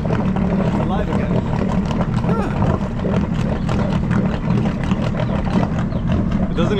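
A Sea-Doo RXP-X racing jet ski engine, a turbocharged unit with dual exhaust into the water, runs steadily at close range with a dense throbbing rumble while people talk nearby.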